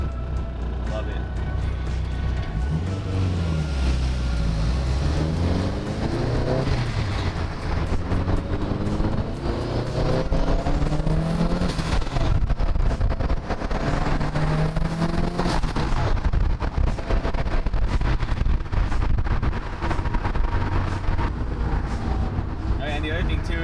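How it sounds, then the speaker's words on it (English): A Subaru GC fitted with a Blitz exhaust drives along, its loud engine and exhaust rising and falling through gear changes with heavy wind buffeting, and someone talks over it. "That's probably like my all-time favorite exhaust for a Subaru."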